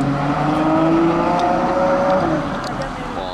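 A Ferrari FF arrives on a street, its engine note rising then easing as it rolls closer, loud and close for a few seconds.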